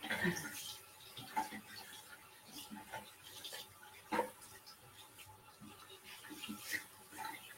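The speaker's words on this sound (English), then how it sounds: "So you're going to run some water till it gets hot." A tap runs water until it turns hot, a faint, steady flow broken by a few soft clinks and splashes.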